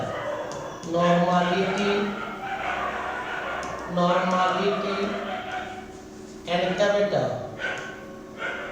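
A dog barks somewhere outside during a chemistry class, several harsh yelps and barks in bursts mixed under a teacher's ongoing speech.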